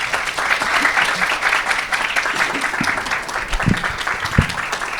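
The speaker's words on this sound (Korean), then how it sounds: "다시 한번 큰 박수 부탁드립니다" An audience applauding after a student's presentation at an ESG forum, dense sustained clapping from many hands at moderate distance, steady throughout with a few louder individual claps.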